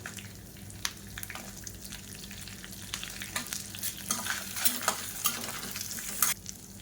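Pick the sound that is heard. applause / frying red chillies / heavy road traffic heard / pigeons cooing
frying red chillies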